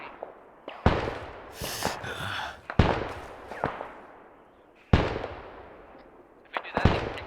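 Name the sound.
mortar fire in the video game ARMA 3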